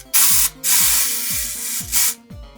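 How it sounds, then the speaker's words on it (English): Elizabeth and James dry shampoo sprayed into hair from an aerosol can: three loud, close bursts of hissing spray separated by short pauses. "So you spray it in your hair."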